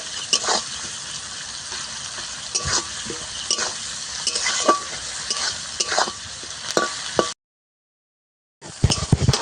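Onions frying in a pan toward golden brown, a loud, continuous sizzle with repeated stirring scrapes, then a short break in the sound before the sizzling resumes.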